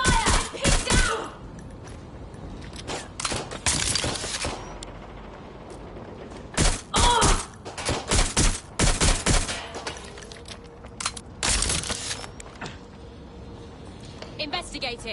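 Gunfire rattles in the Watch Dogs Legion video game, loud bursts and rapid volleys repeating across the scene with short gaps between, while voices call out over the shooting.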